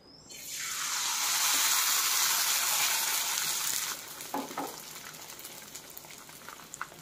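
Rice salpapadya, thin rice papads, frying in hot oil in a pan, giving a loud, steady crackling sizzle that fades to quieter bubbling with a few sharp pops near the end.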